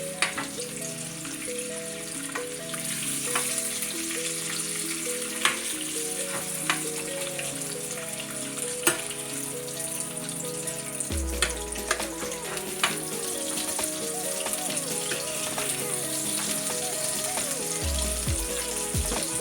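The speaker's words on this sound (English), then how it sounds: "now we're gonna let this bacon here start crisping up" Bacon frying and rendering its fat in a pan, a constant crackling sizzle with sharp spitting pops throughout, under a soft tonal musical background.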